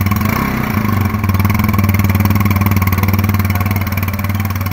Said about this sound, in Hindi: अगर एग्जॉस्ट साउंड की बात करें तो आप खुद ही सुन लो